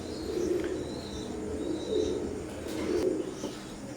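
Teddy pigeons of Oman bloodline coo softly and repeatedly in a steady rhythm of low murmuring calls, close by and fairly quiet, with no one speaking.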